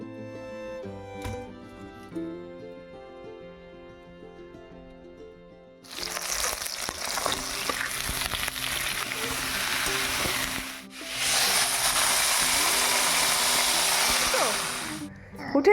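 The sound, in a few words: food frying while cooking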